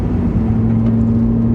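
Steady drone of a Toyota Matrix XRS hatchback cruising slowly on a twisty road, a loud, even engine hum with a strong low tone and road rumble, no talking.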